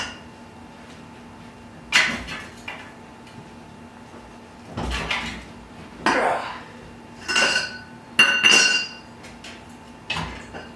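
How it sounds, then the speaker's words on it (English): A 36mm socket on a long breaker bar working loose a Jeep axle-to-hub nut: a series of sharp metallic clanks and ratcheting knocks arrive in irregular bursts, with quiet gaps between them. "we're going to use a 36mm socket to remove the axle to hub nut"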